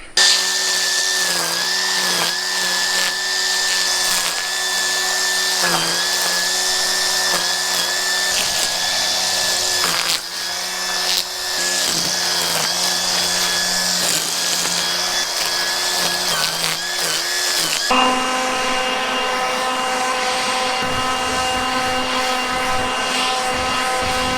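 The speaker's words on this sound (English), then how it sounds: "It's a 40-volt max brushless lawnmower" A 40-volt cordless brushless lawnmower runs with a steady, loud electric motor whine and high-pitched hum throughout, briefly dipping a couple of times before shifting to a lower, steadier drone.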